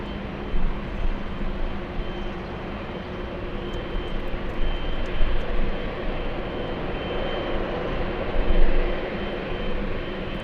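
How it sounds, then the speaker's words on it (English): An Air France Boeing 777 comes in to land at Los Angeles International Airport, its engines producing a broad, steady roar that swells and fades slightly over ten seconds at moderate distance. "We have a big 777. It's Air France."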